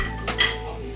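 Fried fish roe fritters dropped into spice paste frying in oil, giving a close sizzle with a short stirring scrape partway through, no talk.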